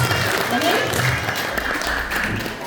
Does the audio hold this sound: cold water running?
no